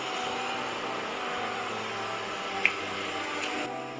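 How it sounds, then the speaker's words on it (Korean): A steady mechanical whir and hum runs without a break from a robot vacuum cleaner working nearby indoors, with one sharp click partway through. "로봇 청소기 소리에 놀라 어디론가 숨어버린"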